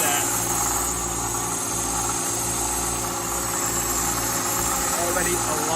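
A Mercedes-Benz M156 V8 with both cylinder banks running lean idles with the oil dipstick pulled and a finger held over the tube, producing a loud, steady, unbroken engine drone with a broad rushing hiss throughout.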